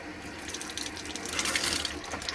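Water runs from a caravan's bathroom sink tap to purge the lines, a steady splashing stream close by that swells slightly midway.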